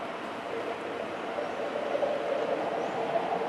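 A CPTM PR22 diesel-electric locomotive, number 6212, maneuvering in the rail yard at Lapa, giving off a steady, fairly close diesel rumble and rolling rail noise that holds at an even level throughout, with no voices.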